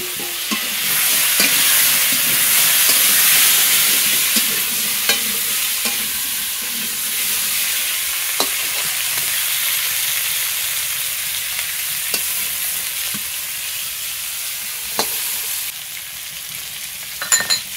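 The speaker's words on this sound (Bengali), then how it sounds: "এবার এই মাছ ভাজা তেলের মধ্যে আমি কেটে ধুয়ে রাখা আলু আর পেঁপে একসঙ্গে দিয়ে ভেজে নেব" Cut potatoes and papaya fry together in oil left over from frying rohu fish, a steady broad sizzle with occasional spatula scrapes and clinks, close and continuous without talk.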